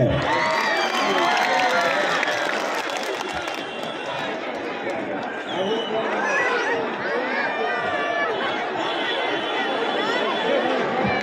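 A crowd at a felicitation rally for a chief minister claps and murmurs continuously, a dense, sustained wash of applause and chatter with cheering mixed in, while a voice speaks over the crowd.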